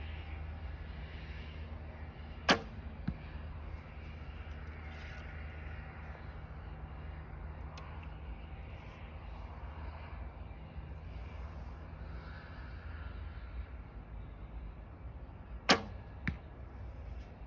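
An arrow shot from a bow whooshes toward a target. Two sharp, brief transients stand out, one near the start and one near the end, over a steady low outdoor hum with no talking.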